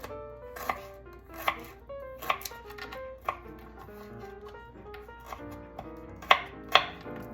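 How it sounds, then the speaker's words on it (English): Garlic sliced with a knife on a board: a handful of sharp, separate chops at an uneven pace, close by, over soft background music. "Slice the garlic."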